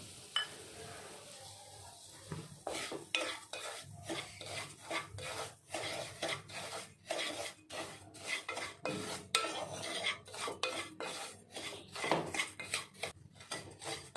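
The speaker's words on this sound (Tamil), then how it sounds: "இதை நெய்யில் நல்லா வறுத்து எடுத்துக்கலாம்" One cup of semolina roasting in ghee in a kadai for beetroot kesari, stirred with quick rhythmic scraping and rubbing strokes against the pan. It is faint and close, with no talk.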